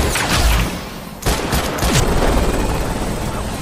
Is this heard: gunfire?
yes